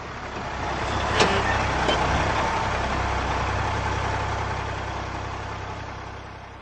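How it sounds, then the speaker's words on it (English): A bus engine idles with a steady low rumble that swells slightly and then fades, with a brief hiss of air brakes near the start. "Then the bus came and I got on."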